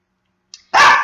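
A Rottweiler and Husky mix puppy gives a tiny yip followed by one loud, close bark, alone with no talking.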